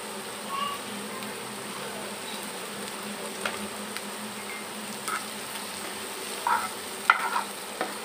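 Snake gourd stir-frying in a pan with green chilli and salt, a soft steady sizzle with a few light clicks and scrapes of a spatula, fairly quiet and without talk.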